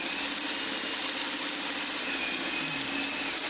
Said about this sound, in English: So I'm going to put this one through and just get it all sewn into place.